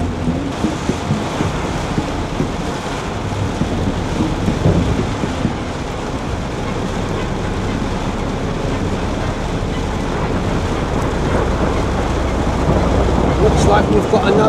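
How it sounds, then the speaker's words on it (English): Heavy rain drums steadily on a moving car during a thunderstorm with lightning, with low rumbling thunder and road noise filling the whole stretch at a constant loud level. "Driving in a storm."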